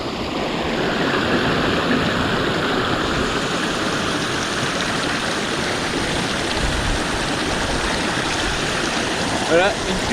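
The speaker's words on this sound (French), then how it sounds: "il y a une grosse cascade là-bas" A large waterfall in the Hautes-Pyrénées gives a dense, steady roar of rushing water that runs unbroken and loud throughout, close and full.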